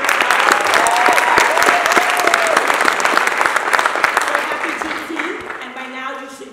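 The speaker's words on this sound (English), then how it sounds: "So can we give Will a huge round of applause?" A large audience at a Juneteenth celebration gives a big round of applause, dense loud clapping with some cheering that gradually thins and fades toward the end as talk begins.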